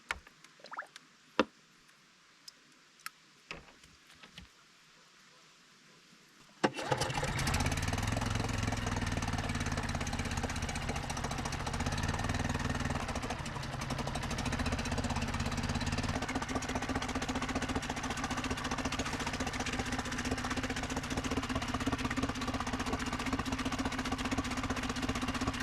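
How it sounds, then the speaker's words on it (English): An outboard boat engine after a run in the ocean starts up abruptly after a few seconds of quiet clicks and handling noises, then runs at a steady loud idle with a mechanical knock while being flushed with fresh water. "Now I'm going to flush this engine."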